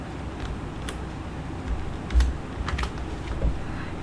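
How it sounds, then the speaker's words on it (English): Typing on a computer keyboard, soft irregular clicks and taps at close range over several seconds with low background hiss. "let me type it in."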